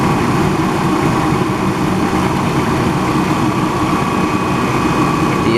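A GMC truck engine running with no clutch fan or electric fan, a loud, steady idling drone that holds constant throughout with no voices.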